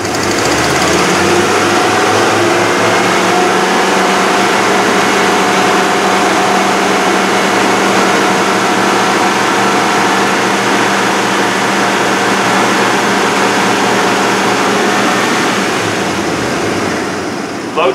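A car engine revs and holds at raised RPM with the air conditioning running during a loaded pressure test, a steady loud drone with a high whine that continues for most of the time before dropping off near the end.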